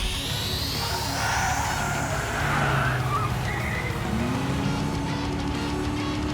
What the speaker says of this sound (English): Is that a turbocharger?